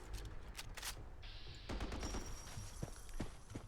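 Rapid bursts of Tavor X95 rifle fire in Fallout 4, loud and close, with dense crackling shots and a brief lull midway before firing resumes.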